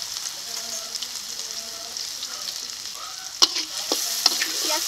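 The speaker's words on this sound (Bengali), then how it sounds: "এখন দিয়ে দিচ্ছি পেঁয়াজ কুচি।" Chopped onions frying in hot oil seasoned with nigella seeds for a spicy boal fish curry, a steady close sizzle with a few sharp crackles and clinks near the end.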